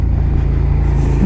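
Steady, loud motorcycle engine drone with low harmonic rumble as the bike rounds a roundabout at speed, taking a right-hand bend, continuous throughout with no talking.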